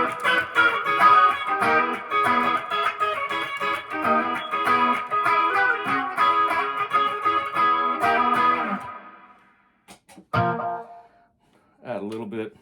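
An electric guitar with heavy distortion plays through an Epiphone amplifier in a sustained, gritty run. It then breaks off, with a couple of short notes after.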